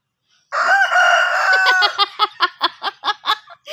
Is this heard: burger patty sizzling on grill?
no